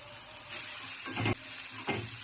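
Onions, tomato, green chillies, ginger-garlic paste, curry leaves and spices sizzle in hot oil for a fish curry. The frying hiss is close and steady, broken by bursts of scraping as the mix is stirred.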